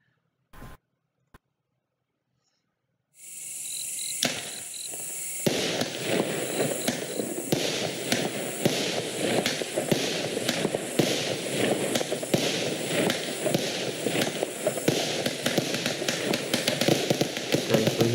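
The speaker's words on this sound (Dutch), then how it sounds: "We hebben hier de Rampage gehaald. Dat is een knalcakeje." Rampage firework cake with 25 shots, a 150-gram consumer cake, going off. After a few quiet pops comes a long, dense run of rapid cracking bangs, loud and continuous, with no talking.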